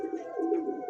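A pigeon at a pigeon shop gives one short, low, throaty coo, close and clear, with a steady hum behind it.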